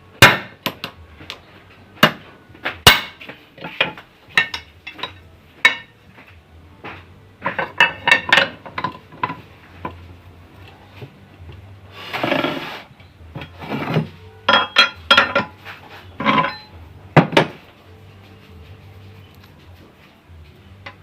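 A hammer strikes a car's seized ball joint in a workshop, loosening it: sharp metallic blows come in irregular bursts and clusters, close and loud, with short scraping and rattling between hits and no talk.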